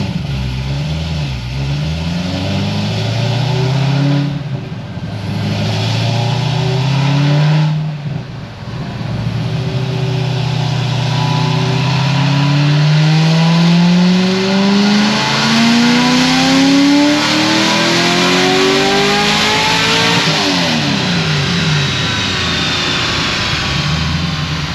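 A Stage 5 Corvette C6 Z06 engine runs on a dyno. It roars loudly through repeated pulls, its pitch climbing steadily, then dropping back and rising again near the end, with no talking over it.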